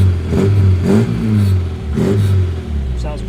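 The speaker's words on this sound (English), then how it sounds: "fire the car up, make sure it sounds sweet" A Classic Mini car engine revs repeatedly in strong bursts, rising and falling about three times over a steady idling rumble, close by.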